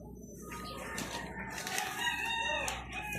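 A rooster crows on a farm plot, its drawn-out calls rising over a background of clucking fowl at moderate distance, with no talk.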